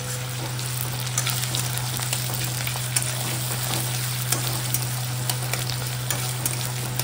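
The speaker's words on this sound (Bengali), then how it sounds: "পেঁয়াজগুলো হালকা ভাজা হয়ে গেছে।" Thinly sliced onions frying in a pan, a close, steady sizzle with scattered crackles and faint spatula scrapes, continuous over a low steady hum, with no voices.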